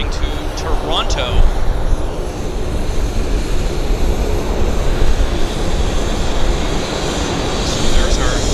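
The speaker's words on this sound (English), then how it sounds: "Apparently the WestJet 37 was just departing to Toronto." A WestJet airliner departing Vancouver Airport fills the air with a loud, steady jet engine roar that holds throughout, with a few brief faint chirps near the start and end.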